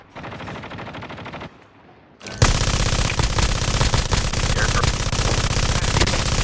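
Shotgun fire in the Call of Duty Mobile video game: after a quieter stretch of game noise, loud, dense, rapid blasts erupt and continue without a break to the end.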